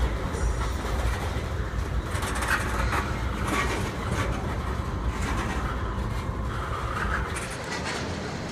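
HO scale model train cars of empty coal hoppers roll along the layout track, a continuous rumbling clatter with repeated rail clicks, fairly close and steady.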